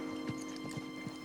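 Cartoon horse hooves, a light even clip-clop of about four soft steps over a steady background hum, faint and close, with no talk.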